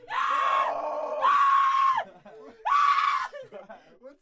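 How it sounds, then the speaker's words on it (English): A person screams three long, harsh, strained times, with short gaps and scattered quieter noises between them, loud and close. "I'm not, I'm just screaming."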